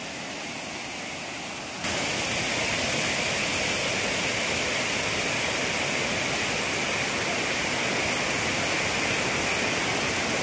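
The Bosay falls in Masbate during the rainy season roars as a steady, full rush of falling water, growing louder after the first two seconds and continuing unbroken with no talk.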